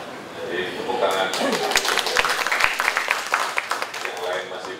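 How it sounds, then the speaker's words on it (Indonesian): An audience at an outdoor city ceremony in Bandung applauds, a dense burst of clapping that rises and carries on for several seconds with voices mixed in. "Jadi tepuk tangan."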